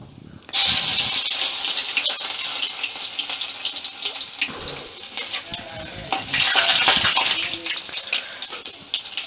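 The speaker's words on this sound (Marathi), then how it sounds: "आता याबरोबर मी लसूण टाकणार आहे बघा." Crushed garlic drops into hot oil with cumin and mustard seeds, setting off a loud, bright, continuous sizzle that holds steady and surges again near the end.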